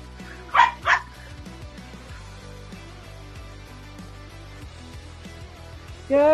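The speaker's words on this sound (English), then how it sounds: "I apologize for the barking." A dog barks twice in quick succession, followed by quiet background noise, then a third bark begins right at the end.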